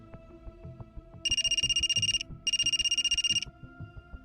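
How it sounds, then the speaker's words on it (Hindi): A mobile phone's ringtone sounds in two clear trilling bursts of rapid, evenly pulsed rings with a short gap between them, playing over steady background music with a soft beat. "फोन की घंटी बजती हुई।"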